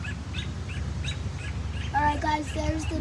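An agitated mother bird repeats sharp chirps near its nest outdoors, steady and fairly close, over low background rumble.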